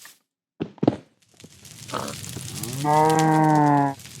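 A single long, steady cow moo in a modded survival video game rings out clearly after a few scattered thumps and a rising rustle, loud and close.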